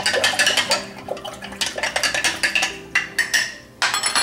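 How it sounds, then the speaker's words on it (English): Ginger pieces and a tablespoon of salt stirred in a jar or bowl for fermented carrots, giving repeated scraping, clinking strokes close by in an uneven rhythm, with no talk. "I'll stir it."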